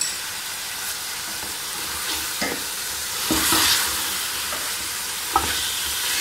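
Whole spices, crushed red chili and black pepper fry in a pot for a one-pot beef pulao, with a steady loud sizzle and hiss throughout and occasional scraping knocks as a spoon stirs them.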